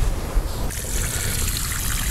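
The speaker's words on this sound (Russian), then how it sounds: "И поливаем." Water trickles and splashes steadily onto soil around a newly transplanted juniper, a close, continuous pour with a low rumble underneath.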